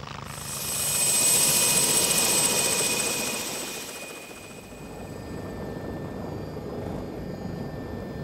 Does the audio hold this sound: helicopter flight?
yes